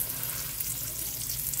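Pizza burger patties fry in a pan over medium-high heat, giving a steady, close sizzle with soft crackles and faint spatters running throughout.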